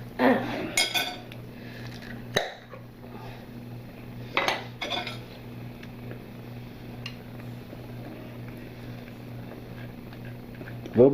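A spoon clinks against a dish as salsa is served onto a plate of chicken tacos with rice: a few sharp metallic taps scattered among quiet kitchen handling sounds, fairly close, with no talk.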